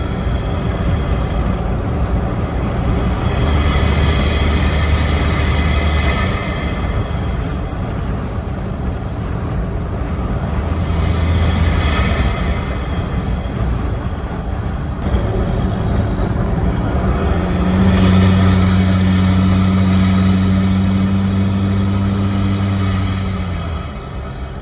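A Nissan NP300 pickup fitted with a snorkel driving with its windows down, giving a steady loud engine drone and road and wind rush that swells in a few long surges, with no voices.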